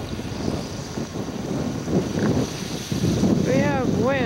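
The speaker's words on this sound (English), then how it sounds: "We have wind today from the south. It's probably 20 to 25 knots." Strong south wind of about 20 to 25 knots buffets the microphone at a kayak campsite in Milne Inlet, near Pond Inlet, as a steady loud roar and rumble throughout; a few bird-like chirps rise near the end.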